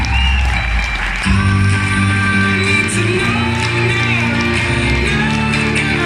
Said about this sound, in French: Sous vos applaudissements, sur un standing ovation, un applaudissement nourri